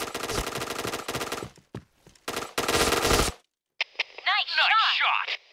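Point Blank game gunshots: sharp automatic bursts and single shots, broken by short silences, followed by a brief electronic game sound effect at the end.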